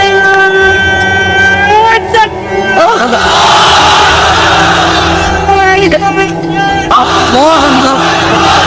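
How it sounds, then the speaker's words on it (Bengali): A large crowd of unmarried men at an Islamic sermon gathering shouts takbir in unison, a loud sustained roar of many voices with echoing hall reverberation, rising in waves. "এবার অবিবাহিতরা দাও লিল্লাহি তাকবীর।"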